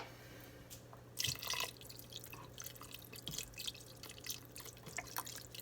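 Beef broth is poured into a pot of chili cooking on a Char-Griller Akorn, making faint, close dripping and liquid splashing sounds in a few soft bursts, with no talking.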